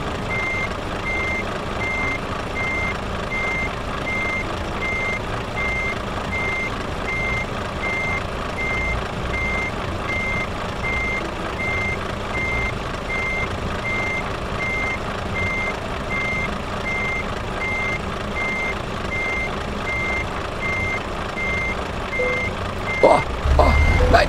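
Steady, evenly spaced reversing beeps sound from a truck being parked in Kiel in Euro Truck Simulator 2, over a continuous engine hum, with a brief louder clunk at the very end and no speech.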